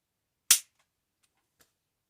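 A 1911 pistol fires a single sharp, loud shot with a quick fade, followed by faint mechanical clicks.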